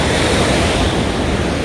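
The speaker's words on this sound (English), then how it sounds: "This is the Philippine Sea, Sipalay," Waves of the Philippine Sea wash onto the beach at Sipalay, Negros Oriental, a close, loud, continuous surf roar mixed with wind, with no voices.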